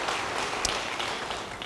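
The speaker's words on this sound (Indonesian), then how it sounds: "Yang percaya, beri tepuk tangan bagi dia." A church congregation applauds during a sermon, a fairly soft, even patter of many hands clapping that holds steady for the whole moment without talk.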